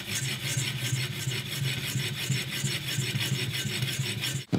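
Thinning scissors are sharpened on a 3000 grit diamond plate: close, steady rasping strokes in an even back-and-forth rhythm, continuous and moderately quiet, ending abruptly.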